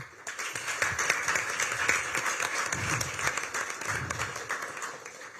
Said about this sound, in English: Let's give a round of applause for everyone who applied.